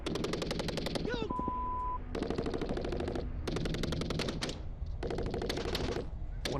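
Rapid bursts from an M240 machine gun in a firefight, several long strings of fast shots separated by short pauses, close and loud, with voices partly under the gunfire.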